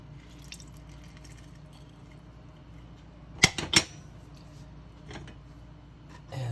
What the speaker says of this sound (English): Juice from 1/2 a lime.